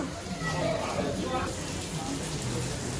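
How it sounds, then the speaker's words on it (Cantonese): Steady rain pours down and patters on surfaces near an old noodle shop in Guangzhou while people talk over the constant hiss. "我哋要等停咗雨先可以走啦。"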